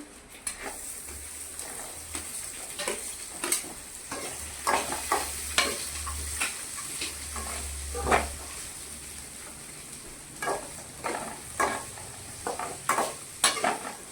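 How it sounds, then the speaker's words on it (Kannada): A large onion sliced lengthwise fries for vegetable kurma, with a soft steady sizzle broken by repeated scraping stirs of a spoon against the pan, fairly quiet and close. "ಒಂದು ದೊಡ್ಡದೊಂದು ಈರುಳ್ಳಿ ರೀ ಉದ್ದುದಕ್ಕೆ ಹೆಚ್ಚಿಟ್ಕೊಂಡಿದ್ವಿ ರೀ ಅವನ್ನ ಹಾಕ್ಕೊಂಡು ಅವನು ಹುರಿತೀವಿ ರೀ ಇದ್ರೊಳಗೆ"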